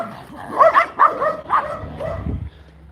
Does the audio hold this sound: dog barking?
yes